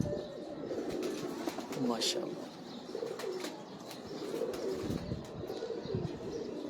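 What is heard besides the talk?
pigeons cooing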